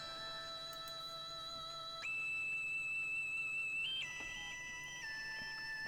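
Layered synth lead with a celeste voice pitched up an octave and run through an amp for light distortion, playing sustained stepped notes that change pitch every couple of seconds, bright and steady with no voices.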